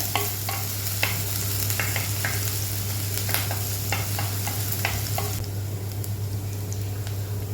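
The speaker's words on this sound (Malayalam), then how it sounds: "ഇഞ്ചിയും വെളുത്തുള്ളിയൊക്കെ വഴണ്ട് അതിൻ്റെ പച്ചച്ചുവയൊക്കെ ഒന്ന് മാറിയതിന് ശേഷം" Ginger and garlic sautéing in a pan for mushroom pepper fry, a steady sizzle with a spoon scraping and stirring in repeated close clicks over a constant low hum.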